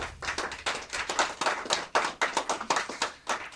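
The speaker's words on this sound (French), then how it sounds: "dans ce Bige qui est si bien rempli de public qu'on peut écouter dès maintenant applaudir" A live audience claps at a packed venue during a music-day broadcast, a brief run of fairly close, uneven hand claps that rise and fall without cheering or voices.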